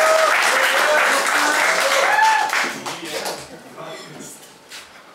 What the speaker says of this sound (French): Nous applaudissons maintenant Jean-Michel!